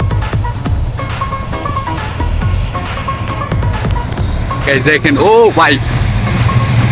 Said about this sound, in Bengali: গাইস দেখেন কি জোরে জোরে যাচ্ছে ট্রেনটা